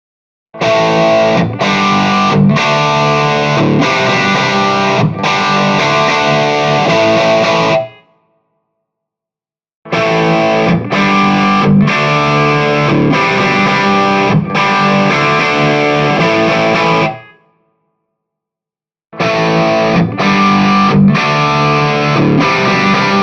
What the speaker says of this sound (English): I'm going to play a riff, and I'm going to use the same riff, just put a different impulse response on it